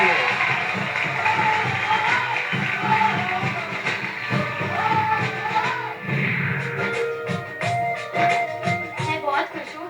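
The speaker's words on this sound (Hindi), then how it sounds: "जोरदार तालियां श्रद्धा के लिए।" Crowd applause and cheering for young singer Shraddha on a televised Indian talent show, a broad roar of clapping with music and voices layered underneath, building and thinning toward the end.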